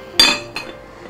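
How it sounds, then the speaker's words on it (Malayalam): A lid set down on a pot for steaming, two sharp metallic clinks close together, the first louder, then a faint ringing tail. "ഇനി പാത്രം ഒന്ന് അടയ്ക്കാം."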